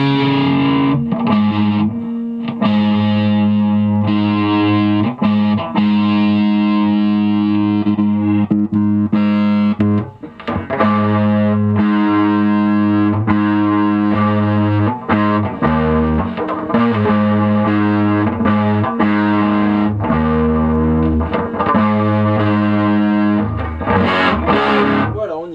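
Harley Benton TE-40 electric guitar played through a Fender Mustang 1 amp with heavy distortion, loud sustained chords and riffs filling the whole stretch with brief breaks between phrases.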